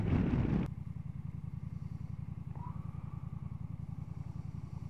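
Honda CMX 1100 Rebel DCT motorcycle on its standard exhaust pipe, a brief louder burst settling into a steady, evenly pulsing low idle rumble, fairly close and alone.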